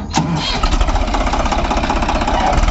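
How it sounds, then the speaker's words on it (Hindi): New Swaraj 855 tractor working black clay soil in low gear at around 1600 rpm, a close, loud, steady diesel chug with pulsing knock-like beats throughout. "यहाँ पर भी देखें कि कैसी ट्रैक्टर की परफॉर्मेंस कैसी आ रही है"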